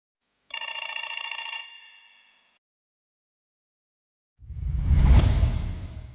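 A telephone rings once with a bright, buzzy electronic trill, followed by silence and then a deep rushing whoosh.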